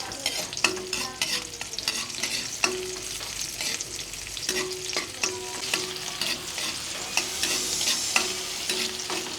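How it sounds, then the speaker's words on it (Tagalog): Garlic and onion sautéing in a pan, a steady sizzle broken by repeated clattering strokes of a spatula stirring, fairly close and with no voices. "Gisa na po tayo ng bawang. Sunod na po natin si sibuyas."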